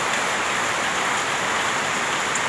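Heavy, unbroken monsoon rain pours steadily under a uniformly overcast sky, a dense, even hiss that stays loud and close throughout with no talking.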